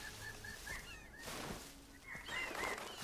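Short bird chirps and tweets from birds in Far Cry 3 repeat over a steady ambient background, moderately close, with a brief flutter in the middle.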